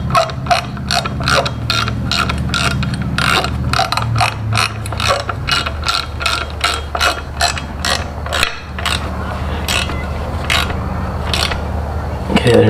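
Ratchet wrench clicking rapidly and steadily while tightening bolts on a hydraulic clutch conversion, a close, continuous run of sharp mechanical clicks with a low hum beneath and no talk.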